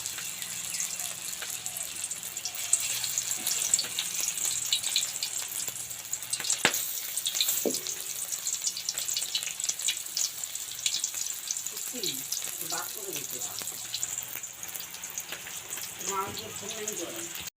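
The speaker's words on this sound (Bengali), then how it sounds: "তেলটা ভালোভাবে গরম হলে পরে এই পুরটা যেদিকে সেই দিকে কিন্তু দিয়ে দেবো তেলের মধ্যে এইভাবে" Stuffed spiny gourd (kakrol) placed into hot oil, a steady soft frying sizzle running throughout with a few brief clinks and handling noises, and a voice speaking faintly near the end.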